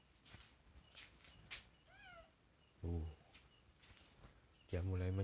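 A house cat meows beside a home, several short harmonic cries spread through the clip, with two louder, fuller calls near the end over faint background noise.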